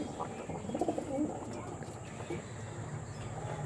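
Pigeons of the Andhra, Arshad and Gola lines coo softly in a loft, a few low murmuring calls early on fading into steady background hiss with faint knocks.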